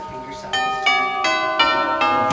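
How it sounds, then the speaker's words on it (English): An antique tubular chime clock from 1890 strikes a slow sequence of ringing metallic tones, each tube note sounding clearly and sustaining into the next, close and loud in a quiet shop. "This is a tubular chime"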